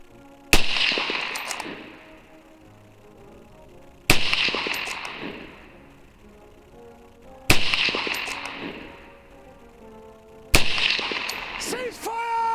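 Four sharp, loud cracks of Mk I Lee Metford rifles fired in volleys during a firing exercise, each spaced about three seconds apart with a ringing decay trailing after.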